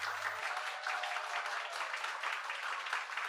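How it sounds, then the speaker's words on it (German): Audience applause fills a comic award ceremony at a Hamburg comic festival, dense and steady from start to finish, with a brief low hum at the very beginning. "Das ist ein Applaus."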